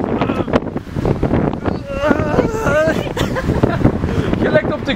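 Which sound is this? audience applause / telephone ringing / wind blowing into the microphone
wind blowing into the microphone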